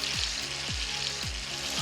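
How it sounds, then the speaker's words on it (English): Chicken sizzles in hot frying oil with a loud, close, continuous bubbling hiss, accompanied by three evenly spaced low thuds. "I hear the frying chicken"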